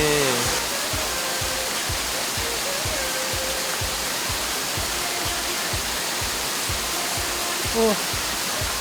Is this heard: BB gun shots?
no